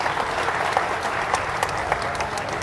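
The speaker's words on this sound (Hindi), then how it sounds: "एक बार जोरदार तालियां सवाजीत जी के लिए बजा दीजिए" Crowd applause at a political party gathering in honour of a state committee president, a dense, even burst of many people clapping that fills the hall without a break.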